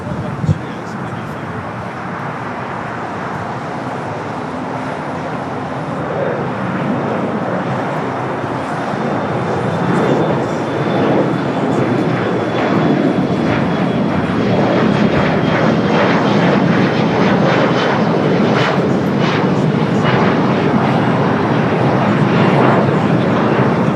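A United Boeing 787 Dreamliner's jet engines drone steadily at LAX, a broad roar building slowly from a distance amid traffic noise, with a voice talking over it.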